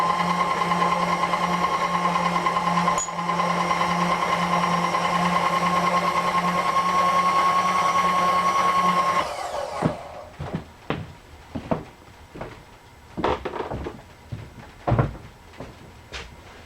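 A drill bit runs steadily for about nine seconds as a continuous mechanical whine cutting into a drill gear box workpiece, then stops and gives way to a series of sharp knocks and clatters.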